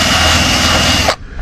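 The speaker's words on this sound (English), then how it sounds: "wire brush and drill" A power drill fitted with a wire brush whirs loudly and steadily while cleaning out screw holes on a boat, then cuts off abruptly near the end.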